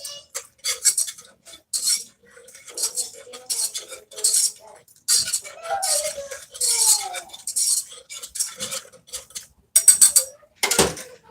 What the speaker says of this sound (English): Break that up a little bit with the whisk I have here.